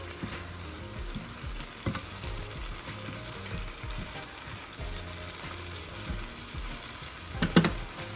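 Garlic and tomatoes frying in a pan for chicken caprese, a steady low sizzle running throughout with a few brief clinks and a louder utensil scrape near the end, no talking.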